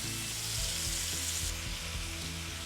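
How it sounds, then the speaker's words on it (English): Beef tenderloin sears in a hot pan with a loud, dense, continuous sizzle and a few dull knocks as the meat is turned, heard close up without talk. "we're gonna sear our tenderloin on all sides"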